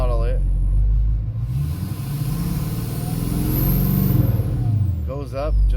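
Duramax diesel engine swapped into a Cadillac Escalade idling with a deep rumble, then throttled so it swells in a rising rev before settling back down, close by, with someone talking at the start and end.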